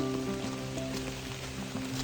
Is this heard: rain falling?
yes